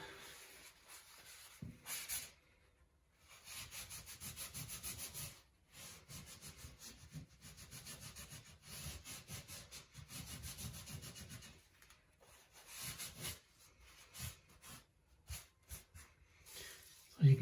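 Sanding away excess filler from a chip repair on a bathtub, a steady scraping rub in several bursts separated by short pauses, close and moderately loud.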